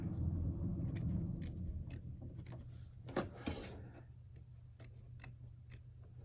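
Scissors snip through layered Kimberbell chenille embroidery fabric in a series of short, crisp clicks spaced about half a second apart, close and fairly quiet over a low steady room hum.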